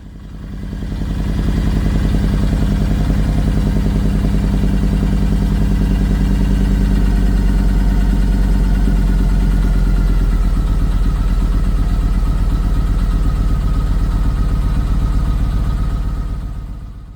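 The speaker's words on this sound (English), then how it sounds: "So we're just running the bike up here." A Yamaha MT-01 motorcycle engine runs steadily at a close, loud idle during an oil change, its deep low rumble and mechanical clatter holding even for the whole stretch with no talking.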